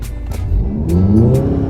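An Audi TT Mk3 launches hard under launch control, its engine note climbing steadily in pitch as it pulls away, loud and close from the cabin with a steady rush of road and wind noise and no voices.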